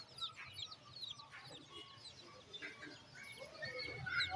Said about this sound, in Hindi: ये मुर्गे हैं और साथ मुर्गियाँ।